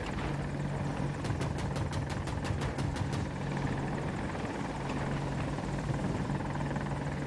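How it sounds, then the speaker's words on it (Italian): A helicopter in the video game Battlefield 2042 flies with a steady, loud rotor drone and a brief burst of rapid sharp gunfire near the start, with no voices. "Leo, c'è un elicottero e te sta sparando davanti a te."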